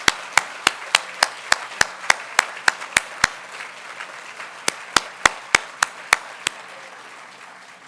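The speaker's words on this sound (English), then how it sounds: "Let's also give them a round of applause" Applause at a physical therapy white coat ceremony, though it comes through as one pair of hands clapping in a steady, evenly spaced rhythm, pausing briefly midway and then resuming before trailing off.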